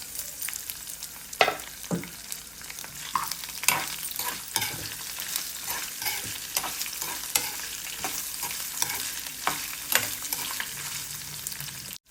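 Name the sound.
ginger pieces frying with tempering in a pan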